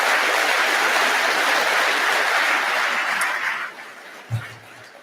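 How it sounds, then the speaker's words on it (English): Conference audience applause for outgoing mayors at a municipal gathering, a broad, loud roll of clapping that fades away over the last couple of seconds, ending with a brief thump and near-quiet. "Let's give them a huge round of applause for their years of service."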